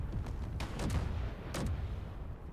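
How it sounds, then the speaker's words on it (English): Explosions ripping through a damaged ship in the video game Space Engineers, with several booming blasts in quick clusters over a rumbling background. "The explosions are propelling it away."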